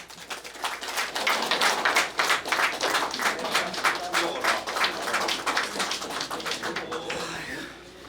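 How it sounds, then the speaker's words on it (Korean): An audience of elderly hometown attendees at a unification academy lecture gives a big round of applause to welcome the lecturer, many hands clapping loudly and steadily before the sound tapers off near the end. "우리 이영종 박사님 나오실 때 큰 박수 한번 부탁드리겠습니다."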